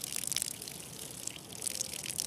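Water rushes and splashes in a hill stream in the Arghakhanchi countryside, a faint, steady gurgling wash with brief bright spatters and no voices.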